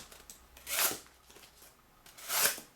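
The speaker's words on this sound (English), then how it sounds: "Cut a little cardboard with it." A razor-sharp Muela Red Stag knife slices through cardboard in two quick, crisp rasping cuts about a second and a half apart, close and clear with quiet pauses between.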